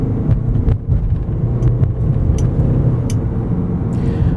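A 2022 Ford Maverick Lariat hybrid with an eCVT accelerates from a complete stop while towing a trailer. A loud, steady engine and road rumble fills the cabin, with no talking.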